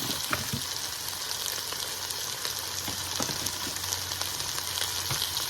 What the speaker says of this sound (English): we're going to let this cook until those onions caramelize